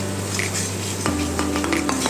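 A spoon stirs a spice paste with a little water in a bowl while making soya chunks curry. Steady scraping and swirling carry through, with a few light clinks against the bowl toward the end.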